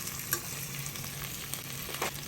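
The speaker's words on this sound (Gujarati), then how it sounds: "એ રીતે ઓનિયનને પણ થોડું સાતળવા દો." Onions sautéing in a pan, a steady even sizzle with light crackles and occasional faint spatters, heard close and fairly quiet.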